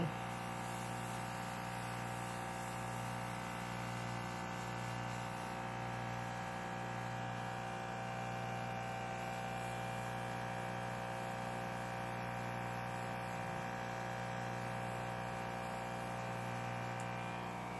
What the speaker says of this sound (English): then I'm going to go ahead and start to airbrush